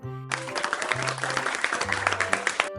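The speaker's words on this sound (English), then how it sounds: "Give yourself a big clap" Group applause for a children's alphabet lesson, a dense burst of many hands clapping steadily for under three seconds over a light music bed.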